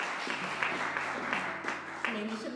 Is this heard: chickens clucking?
no